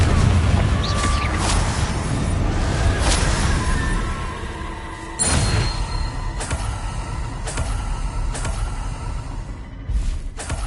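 Repeated Confringo fire-blast spells in the Hogwarts Legacy game: a series of sharp bursts, roughly five or six, cracking out every second or so over a dense, rumbling bed of game sound and music.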